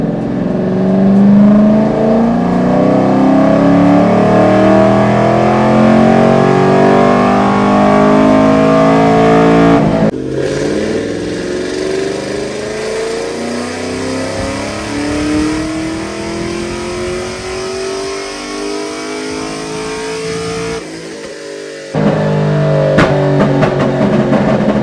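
A BTR Stage 3 LS3 Camaro running E85 pulls hard in third gear on a dyno, its loud engine note sweeping steadily upward across repeated runs, with abrupt drops between pulls.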